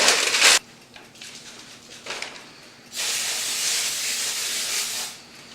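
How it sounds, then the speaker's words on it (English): Two bursts of vegetable oil cooking spray hissing nearby while making homemade bread: a short blast, then after a pause a longer steady spray, with faint rustling between. "spray some vegetable oil"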